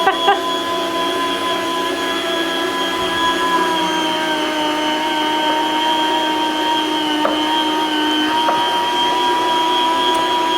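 Budget Borlebbi electric food slicer motor running steadily and close, a constant whirring hum with a high whine that holds level throughout.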